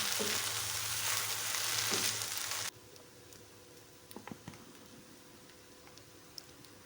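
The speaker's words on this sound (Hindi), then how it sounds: "अब हम इसको थोड़ी देर भूनेंगे ताकि इसका भी कच्चापन खत्म हो जाए" Tikka macaroni being fried in a pan, a loud steady sizzle that cuts off abruptly partway through, leaving quiet room tone with a few scattered ticks and clinks of the pan.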